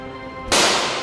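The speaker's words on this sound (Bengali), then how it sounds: "আব্বা, গুলি হচ্ছে মনে হয় পিছনে।" A single sharp, loud gunshot cracks suddenly from somewhere behind, followed by a brief echoing decay after a moment of quiet background.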